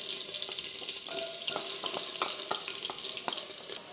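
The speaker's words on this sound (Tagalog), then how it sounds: "Tapos simulan na natin mag-isa ng bawang." Garlic sautéing in butter and cooking oil for creamy chicken sopas, a bright continuous sizzle with frequent clicks and light scraping from stirring, close and steady with no speech.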